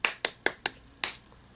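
Five crisp hand claps as a sound effect, sharp and close, the first four in quick succession and the last after a short pause, each decaying fast.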